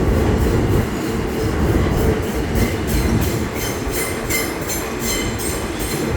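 An F train on the New York City subway sits at West 8 St station near Coney Island, its steady loud rumble filling the air with faint rhythmic ticks and hiss above, alone without voices.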